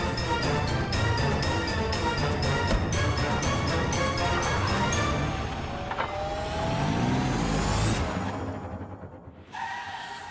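A car drives past with a rising engine roar and tire noise, heard close and loud, then the sound fades and a tonal sweep follows before a short skid-like burst.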